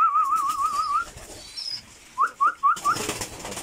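Pigeons crowd a garden bird feeder: a run of high, wavering whistle-like calls, then a few short, sharp chirps close by, ending in a louder rustling burst.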